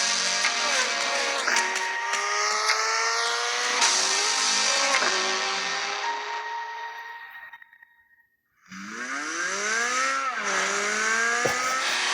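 A Chevrolet C8 Corvette Z06 with a high-revving flat-plane-crank V8 screams loudly on track, climbing through gears in rising sweeps, fading away to near silence around eight seconds, then roaring back close by with more revving and tire squeal.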